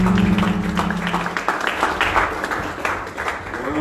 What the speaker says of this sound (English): Can we welcome him with a round of applause?